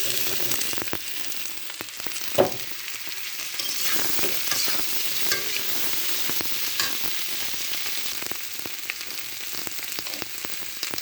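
Fried egg and boiled potatoes sizzling in a pan after onions were browned, a steady close frying hiss with occasional stirring scrapes and a sharp clink near the start, no voices.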